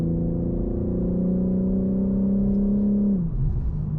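A 2021 BMW M3 Competition engine holds a steady, throaty droning tone at high revs, then drops in pitch as the throttle eases off near the end.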